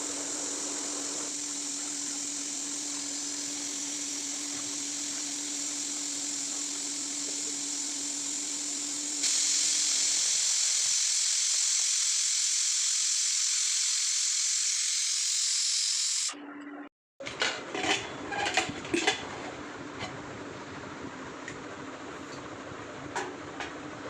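A pressure cooker cooking mutton lets out a long, loud, steady steam whistle over a background hiss. After a brief cut, a rougher hissing continues with sputtering bursts.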